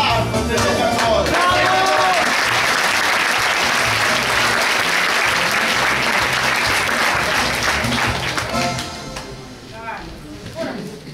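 A theatre audience applauds the actors after a performance, loud sustained clapping from a large crowd that fills the room before gradually thinning out and fading toward the end.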